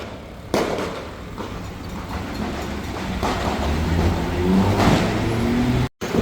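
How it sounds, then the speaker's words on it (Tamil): Sharp firecracker bangs go off at intervals during Christmas celebrations in Colombo, Sri Lanka, against a steady outdoor rumble, some close and loud, others farther away. "அறம்புறமாக அங்கால வெடி சத்தம் கேட்குது"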